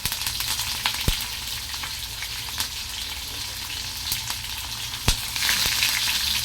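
Spices for vegetable khichdi temper in hot oil, giving a close, steady sizzle. Sharp crackles and pops burst out at irregular moments.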